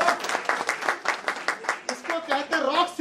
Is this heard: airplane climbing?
no